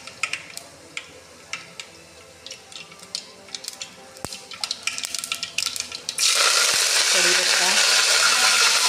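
Mustard seeds hitting hot oil in a pan while making chakulya: scattered small ticks and pops first, then a sudden loud, steady sizzling hiss that fills the last few seconds.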